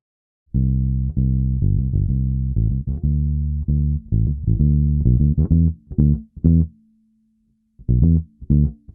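A deep synthetic bass line boosted at 1.5 kHz with a Pultec-style EQ plays a rhythmic pattern of sustained notes with short gaps, bright and full-bodied, alone without voices.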